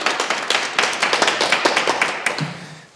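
An audience claps together after a question during a Korean talk, the applause dense and steady near the listener before fading out at the end.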